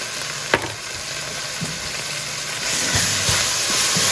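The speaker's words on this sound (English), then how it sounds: "we're just going to kind of cook these spices up a little bit to kind of warm them up" Spices and garlic paste sizzling in a pan, a steady soft hiss with a few faint stirring knocks, growing a little louder toward the end, no talk.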